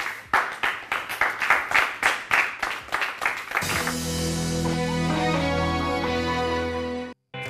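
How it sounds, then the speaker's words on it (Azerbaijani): A studio audience at an Azerbaijani medical talk show claps in rhythmic, regular bursts for a few seconds, then music swells in and carries on under the fading applause. "Gəlin, alqışlayaq."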